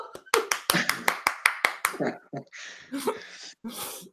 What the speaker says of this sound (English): You better clap now. You better clap now.